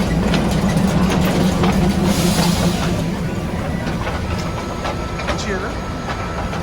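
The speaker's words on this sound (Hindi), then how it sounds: "कल का ट्रेन यही है, हम जो जलपाईगुड़ी जाने वाले हैं" A train engine idles at a station with a loud, continuous low rumble and broad hiss, the train bound for Jalpaiguri; people talk nearby over the drone.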